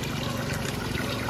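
Free mountain water pours and trickles at a roadside spring along the Bongabon–Baler road, a steady close splashing flow with no break.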